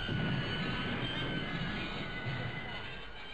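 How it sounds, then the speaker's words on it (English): A subway train rolls into a station with a steady, loud rumble and faint wheel squeal throughout, while people's voices murmur underneath. "That's my train."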